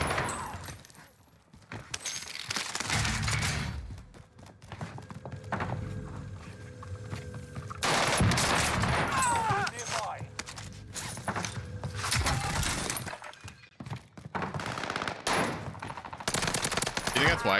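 Rapid bursts of H4 Blixen SMG fire in Warzone on Rebirth Island, loud and close, with repeated automatic volleys, brief pauses, shattering and mechanical clatter, and talk in the background.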